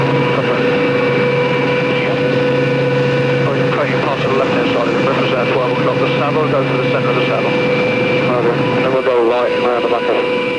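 Army Air Corps helicopter or aircraft engines running continuously at close range, a steady loud drone with sustained tonal hum, and no talk over it.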